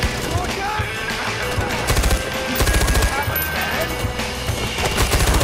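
Automatic gunfire rattles in dense bursts from a machine gun in the shooter game Far Cry 4, loud and continuous over game noise, with someone talking excitedly over the shots.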